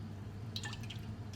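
Oil poured into a cake batter with cold milk gives a brief, faint liquid trickle and a few soft drips over a low background hum.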